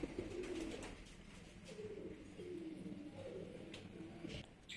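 Teddy pigeons coo in a breeding loft, giving soft, repeated throaty coos from several birds nearby, fairly faint against a quiet background.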